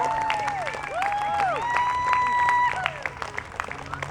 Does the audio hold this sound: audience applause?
yes